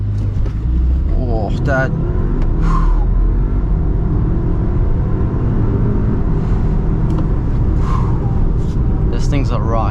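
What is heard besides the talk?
2024 Audi Q5e SUV launch acceleration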